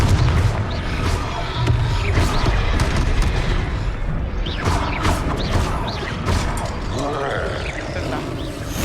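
Blasting-spell explosions in the video game Hogwarts Legacy, heavy booming impacts and crashing debris over rumbling game effects, loud and repeated through the stretch.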